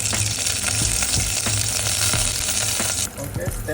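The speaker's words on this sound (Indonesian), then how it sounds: "Wanginya udah keluar kita kasih serai. Apinya kecil aja ya." Lemongrass sautéing with spices over low heat makes a loud, dense, steady sizzle with small crackles, close up, dropping slightly in intensity near the end, no speech.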